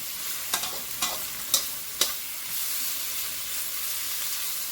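Vegetables and garlic fry in a pan with a constant bright sizzle and hiss, while a few sharp clicks of stirring punctuate the first half.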